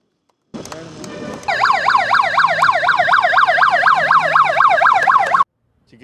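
An ambulance siren in Karimnagar wails loudly in a steady, rapidly repeating up-and-down cycle, starting after a brief lower noise and cutting off abruptly after about four seconds.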